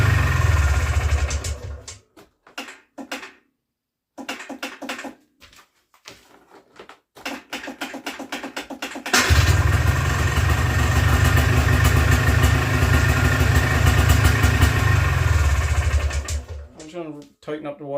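A small two-stroke engine with smoky exhaust sputters and stalls through several short bursts amid talking, then catches and runs steadily at a loud, close, buzzing idle before cutting off.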